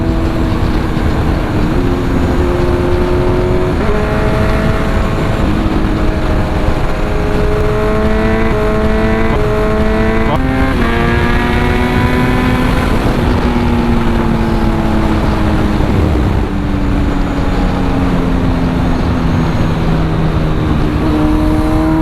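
A Kawasaki Z900 with a full LV exhaust revs hard on the road, its loud continuous engine note rising through the gears and dropping at each quickshifter change, with repeated upshifts in a steady sequence.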